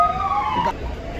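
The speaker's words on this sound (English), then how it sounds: "let's wait for the siren to be" A wailing emergency siren sweeps in pitch for under a second before cutting off abruptly, leaving low traffic rumble behind.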